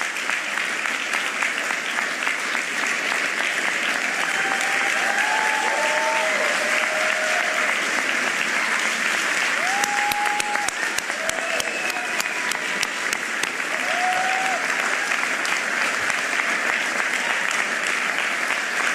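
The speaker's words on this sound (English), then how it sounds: "Please rise so that we can give you a big round of applause." Sustained audience applause fills an auditorium at a Philadelphia mayoral event, a steady dense wash of clapping throughout, with a few faint voices and whistle-like tones rising above it.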